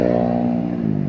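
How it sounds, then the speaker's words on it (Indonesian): Honda Beat ESP ISS 2018 scooter-motorcycle engine running close and loud, a steady idle hum with a slight rise near the end, no voices. "Motor Beat ya, motor Beat ESP ISS tahun 2018."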